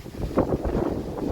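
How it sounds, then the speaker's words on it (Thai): Strong wind on a stormy April day in New Zealand buffets the microphone with low, gusty rumbling and rustle, moderately loud and continuous with no voices. "ลมมันแรงมากเลยนะ"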